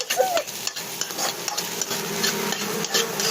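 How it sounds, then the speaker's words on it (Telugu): Food frying in a pan, heard as a loud continuous sizzle with close, rhythmic stirring and scraping of a spatula. "బాగా ఫ్రై చేసుకోండి"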